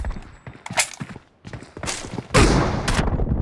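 Gunfire in the mobile shooter Battlegrounds Mobile India (BGMI) played on a Poco X3 Pro: scattered sharp shots and quick bursts, with a heavier rolling volley of fire toward the end.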